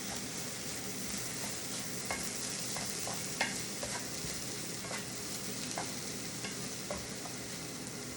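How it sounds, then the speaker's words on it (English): Rice toasts brown in a pan for a Cajun rice and broccoli casserole, a steady sizzle under repeated spatula scrapes and taps at an even pace, with no talking. "You can see my rice is getting just toasty brown. I wanted to cook a little bit before I add in those tomatoes."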